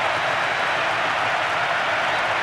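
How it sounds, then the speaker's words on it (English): Stadium crowd in the Winning Eleven football video game roars after a goal, a dense, steady wall of cheering and applause-like noise that stays loud and unbroken throughout. "Just listen to the crowd. The stadium erupting in a crescendo of noise."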